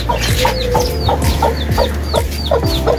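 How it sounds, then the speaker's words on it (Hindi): Fowl calling in a farm enclosure, a steady series of short high chirps and clucks repeating about twice a second, close and fairly loud over a constant low background hum. "चूजे की आवाज आ रही है, एक ही चूजा है।"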